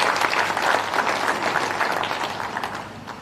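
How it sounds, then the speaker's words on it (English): Audience applause at the EU–Kenya trade deal signing ceremony, a dense burst of many hands clapping at once, loud at first and gradually fading over a few seconds. "Let's give him a round of applause."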